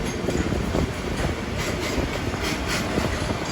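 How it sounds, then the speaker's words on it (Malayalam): A Jhelum Express sleeper coach runs beside a goods train on parallel tracks near Faridabad, giving a steady, loud rumble of wheels and coaches with soft clickety-clack beats, heard from inside the moving train without talk. "Goods versus express train."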